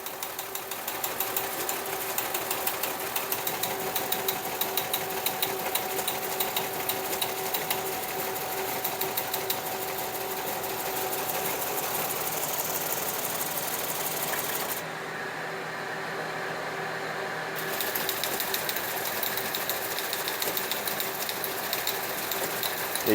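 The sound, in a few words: Teletype M28 reperforator printing and reading paper tape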